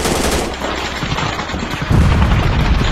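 Grenade explosion in a commando shooting video game, a heavy low boom swelling near the end after continuous gunfire-like crackle, loud and close.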